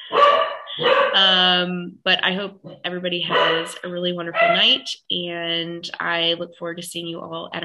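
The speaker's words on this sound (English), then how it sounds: "And I apologize for my dogs." Several dogs bark in the background at home during an online evening talk, with repeated sharp barks interleaved with someone speaking throughout.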